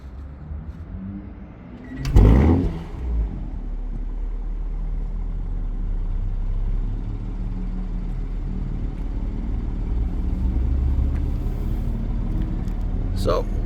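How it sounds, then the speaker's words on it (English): Cold start of a 2026 BMW M340i with the B58 inline-six: a sharp starter crank and loud flare of revs around two seconds in, settling into a steady, deep idle rumble heard up close. "start the car for you so you can hear the cold start"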